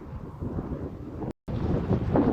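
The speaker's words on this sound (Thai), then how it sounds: "กระแสลมแรงประมาณ45กิโลเมตรชั่วโมงนะครับ" Strong coastal wind of about 45 km/h at the Storstrøm Bridge construction site near Vordingborg, Denmark, roars and buffets the microphone in a loud, continuous rush, broken only by a brief cut.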